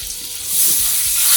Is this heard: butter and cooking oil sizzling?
yes